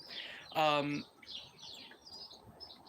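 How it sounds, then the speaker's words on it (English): Small birds chirping nearby, one bright clear tweet standing out before softer, scattered chirps continue faintly in the background, no talking over them. "I'm being joined by some little birds"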